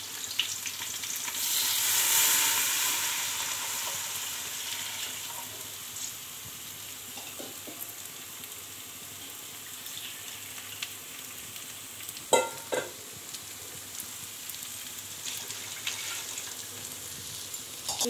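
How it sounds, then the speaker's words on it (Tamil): Steady frying sizzle of coconut milk poured over golden-fried onions in a pan for Tamil-style ghee rice, a broad hiss that swells early and then settles, with a few light utensil clinks partway through. "ஃப்ரெண்ட்ஸ் இப்போது தேங்காய் பால் ஆட் பண்ணலாம்."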